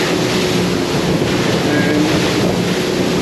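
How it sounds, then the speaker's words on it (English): Choppy ocean waves slap against the side of a boat in stormy weather under a tornado warning, a steady loud wash of water and wind noise running throughout with no talking. "a little choppy out here, that's all it is. And the waves are coming from the side"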